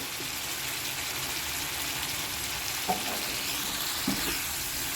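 Mutton curry masala frying and being stirred in a pan, a steady broadband sizzle throughout with a couple of brief scraping knocks from the spoon, no talk.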